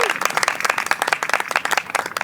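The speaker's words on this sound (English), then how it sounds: "Give him a round of applause," An audience applauds to welcome a guest to an interview at an outdoor music venue, a dense burst of many hands clapping that stays steady and loud for a couple of seconds, with a few faint voices mixed in.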